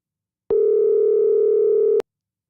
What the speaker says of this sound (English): Let's see if we can get this guy on the phone.